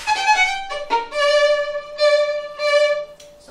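Violin playing a fast Mendelssohn Midsummer Night's Dream Scherzo passage with bouncing spiccato bowing, rapid detached notes in short bursts, close and clear with no talking.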